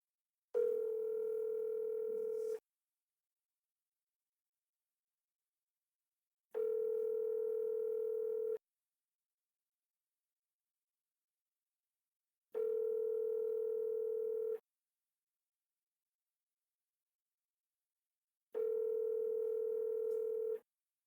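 An iPhone call placed by voice assistant rings out as four identical electronic ringback tones, each about two seconds long with roughly four-second silent gaps, clean and alone.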